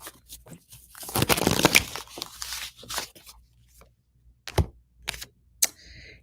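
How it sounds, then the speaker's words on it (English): Tarot cards being shuffled in a series of crisp riffling and tapping bursts, a dense flurry early on followed by scattered short snaps and shuffles, close and fairly quiet. "One more shuffle."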